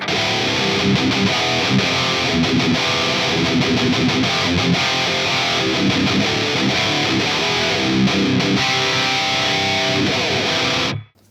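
Heavily distorted electric guitar through an amp capture, with no noise gate or denoiser, plays a dense, loud riff without pause, then cuts off abruptly near the end.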